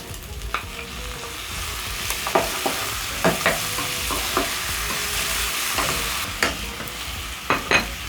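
Pork fries with tomatoes in a hot pan, a continuous loud sizzle with intermittent clacks and scrapes of stirring scattered through it and no voices.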